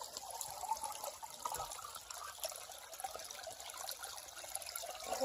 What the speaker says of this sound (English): Crossing the creek on the way back.